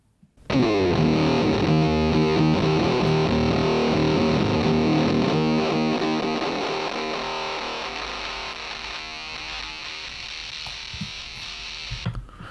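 A loud, distorted guitar chord rings out and slowly fades, its tone thin and buzzy from an extreme EQ cut removing almost all the low end.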